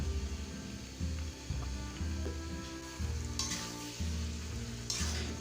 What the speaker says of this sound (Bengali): পরিষ্কার করে রাখা কলিজাগুলো কলিজাগুলোকে দিয়ে সুন্দর করে কষিয়ে নেব